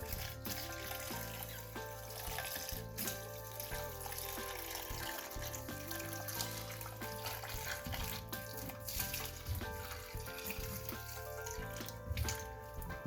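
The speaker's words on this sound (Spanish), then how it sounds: "lo que voy a hacer ahorita va a ser llenar aquí, ¿sí? Para ser un poco más agresivo, con agua caliente y pinol" Hot water runs steadily into the fabric softener duct of a Mabe Aqua Saver washing machine, a continuous close splashing and trickling stream that lasts throughout, with no speech.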